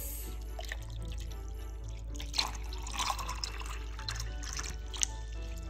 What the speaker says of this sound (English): let's start this experiment by pouring water into the glasses